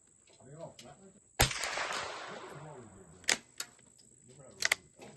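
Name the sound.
Browning T-Bolt .22 rifle gunshot hitting scraps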